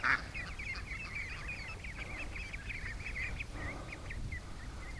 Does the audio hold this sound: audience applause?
no